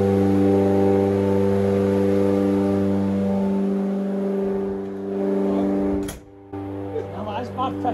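A reversed Opel C20XE engine runs steadily on a 1989 water engine dyno during break-in, a strong harmonic drone that drops off near the end, with a voice briefly audible.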